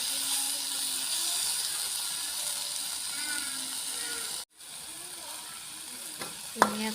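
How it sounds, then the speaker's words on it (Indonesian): Chili paste and spices for sambal tempe sauté in a pan with a steady bright sizzle, with light clinks and scrapes of a stirring utensil near the end, including one sharp scrape. "Ini aku tumis dulu ya teman-teman sambalnya atau bumbunya"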